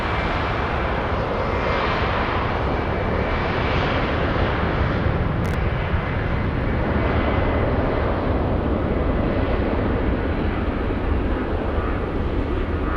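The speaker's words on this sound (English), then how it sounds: "We have another 747 Lufthansa." A Lufthansa Boeing 747 at Frankfurt airport produces a loud, continuous jet engine roar, broad and steady throughout with no break, heard close and without talking.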